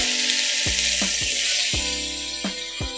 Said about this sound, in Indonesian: Karena saya mau goreng ini ya ikan terinya dulu ya, mau saya goreng dulu.